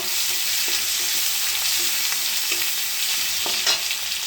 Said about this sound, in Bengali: অল্প পেঁয়াজ কুচি, টমেটো কুচি আর জিরে ফোড়ন দিয়েছি